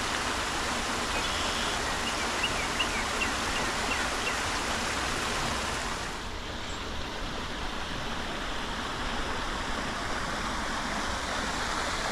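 A constant, full roar of a creek waterfall fills the scene without pause, dense and close, easing a little partway through.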